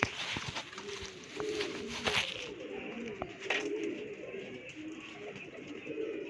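Soft pigeon coos and rustling close by, including black and golden pigeons, with scattered clicks and flutters over a steady outdoor background; no one speaks.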